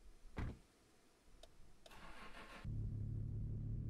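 A car engine starting in the video game Mon Bazou: a brief cranking burst, then the motor catches and settles into a steady, fairly loud idle hum that continues to the end, with no talking.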